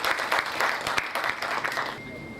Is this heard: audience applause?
yes